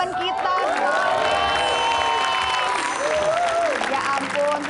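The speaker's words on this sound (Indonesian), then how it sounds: "Tepuk tangan dong buat teman kita, Sony." An Indonesian talk-show studio audience applauds and cheers as a guest is welcomed. The crowd sound is loud and sustained, with voices calling out and talking over the clapping throughout.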